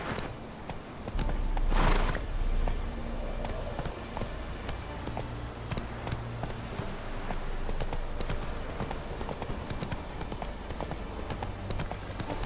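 Roach, the horse in The Witcher game, gallops with steady, rapid hoofbeats thudding under a wash of ambient outdoor noise, with a brief whinny-like burst near the start.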